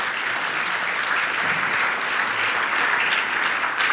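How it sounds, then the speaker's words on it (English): Sustained audience applause at an award ceremony honoring a teacher, dense steady clapping throughout with no pauses or talk. "feel free, worthy of applause"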